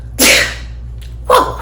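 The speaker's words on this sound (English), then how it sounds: "I just sneezed." A person sneezes twice outdoors in a dusty spot: two sharp, loud bursts about a second apart, with quiet between them.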